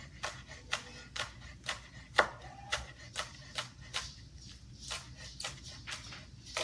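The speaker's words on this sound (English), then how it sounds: "Chopping the scallions." A knife chops scallions on a cutting board, close and clear. Crisp, evenly spaced taps come about twice per second, with one sharper knock near the middle and a low background hum underneath.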